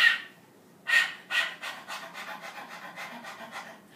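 A person's voice imitates a dog's rapid panting after eating very spicy food, a series of breathy rhythmic huffs, loud at first and then quicker and softer, close to the microphone with no talk.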